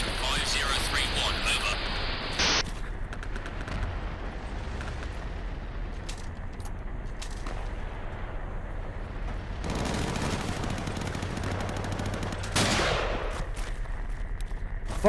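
An artillery barrage with heavy gunfire rumbles steadily in the distance, with crackling shots and a few sharper bursts over the dense wash of combat noise, and voices speak faintly underneath.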